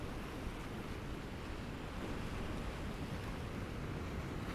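Ocean surf breaks and rushes in a steady, dense roar that fills the whole stretch, heard outdoors on a coast under a changing sky, with some wind buffeting the microphone and no voices.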